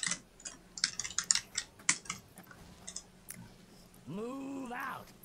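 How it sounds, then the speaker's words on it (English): Rapid clicking of a mechanical keyboard during an online game, a dense run of sharp keystrokes up close for about four seconds, followed by a brief voice. "It's a mechanical keyboard in action."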